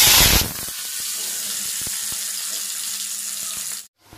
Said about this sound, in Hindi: मैं पनीर फ्राई करने के लिए पनीर डाल दूंगा